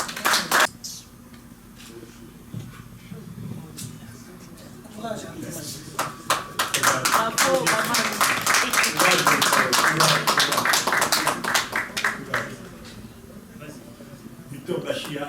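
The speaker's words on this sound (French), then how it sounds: "Nous allons applaudir pour lui." Audience applause at a press conference honoring a Congolese music star, a dense rising burst of clapping from a crowd that swells through the middle and carries on loudly to the end.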